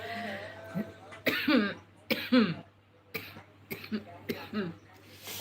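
Several close, raspy coughs from a woman with an itchy throat in a hotel in Makassar, arriving in uneven bursts with pauses and throat clearing between them.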